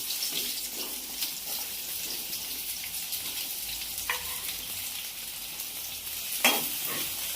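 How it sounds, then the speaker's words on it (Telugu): Three sliced onions fry in oil for a home-style prawn curry, giving a steady close sizzle with light stirring and scraping, and no voices over it. "మూడు ఉల్లిగడ్డలు మంచిగా కోసేసుకొని ఇప్పుడు వాటిని అయితే ఆయిల్ అయితే వేసేసుకుంటుంది"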